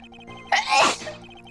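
One loud, close sneeze with a sharp onset and breathy tail cuts over soft background game music.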